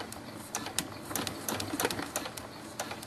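A sewing machine stitches down the side of a dollhouse-size quilt, running steadily with rapid clattering needle strokes, close and continuous with no talking.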